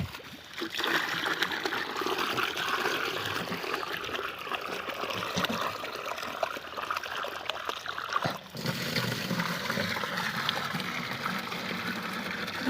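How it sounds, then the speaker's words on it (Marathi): Water runs in a steady stream into buckets, pouring and trickling continuously, with a brief interruption before the flow resumes. "तिथं पाणी चालू आधी पाणी भरून घेऊ आपण"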